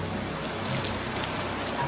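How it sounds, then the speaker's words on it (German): Heavy rain used as a radio-drama sound effect, a dense, steady hiss of downpour filling the whole stretch without a break and with no voices over it. "Es ist ein irrer Regen auf einmal."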